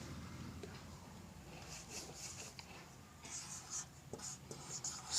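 Pen or chalk scratching on a board during a class 12 inverse trigonometry maths lesson, faint soft strokes in short bursts over quiet room tone.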